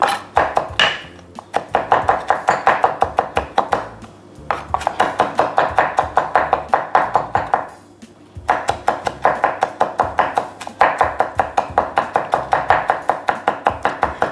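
A knife chopping and mincing garlic on a board in a vegan kimchi kitchen, fast steady rhythmic taps in long runs with brief pauses, close and crisp.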